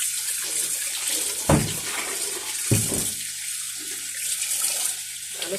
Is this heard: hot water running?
yes